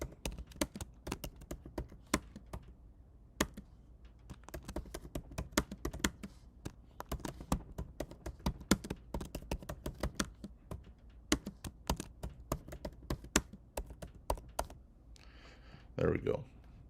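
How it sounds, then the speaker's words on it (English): Typing on a computer keyboard: steady, irregular clicks of keys, close and fairly crisp, continuing for many seconds with a short spoken remark near the end. "I'm just going to type my name, the class, and the semester in here."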